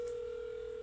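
A steady electronic telephone tone sounds during a call to a Denny's restaurant that goes unanswered, faint and unbroken for under a second.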